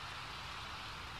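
Steady rain in The Sims 4 makes a constant, even hiss of falling water with no breaks, moderate in level, with no other sounds.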